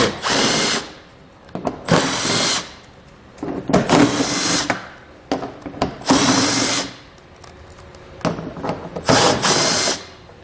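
A power tool drives out 10 mm screws along the back edge of a 2017 Toyota Sienna bumper in loud, close whirring bursts of about a second each. Short gaps fall between them, with a few clicks and no talk.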